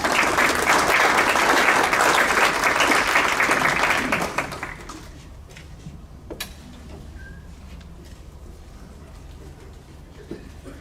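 An audience applauds at a Topeka Public Schools staff awards ceremony, a dense roar of clapping for about four seconds that then drops to scattered, faint claps and room murmur.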